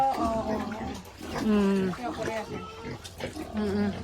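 Pigs on a village pig farm grunt and snort in short bursts, mixed with people talking nearby.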